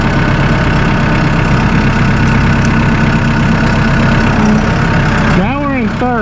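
A Massey Ferguson 2E.60 compact utility tractor engine runs steadily at idle with a low, even drone while it stops to shift between gears, and the engine note rises and falls near the end.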